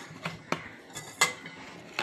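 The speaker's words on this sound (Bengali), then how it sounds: "দেখো লুচি বেলছে" Rolling pin knocking and clacking on a board while luchi dough is rolled out at home for a school tiffin, five sharp separate taps spaced irregularly, close and fairly quiet.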